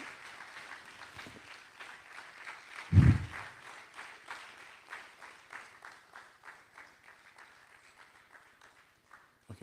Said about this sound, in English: Please, a round of applause for Mr. Alf Rawani, please.